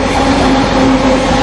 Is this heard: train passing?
yes